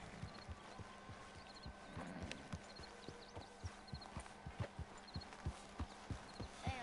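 A horse in Red Dead Redemption 2 trots with a steady, rhythmic clip-clop of hooves that is faint but regular and continues throughout.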